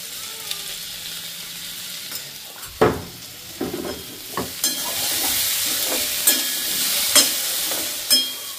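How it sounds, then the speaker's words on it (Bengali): Potatoes frying in a pan with a constant close sizzle and hiss, punctuated by several sharp scrapes and clanks from a spatula stirring them. "যা সেটা আলু ফ্রাই করছি, মানে আলু ভাজছি আর কি।"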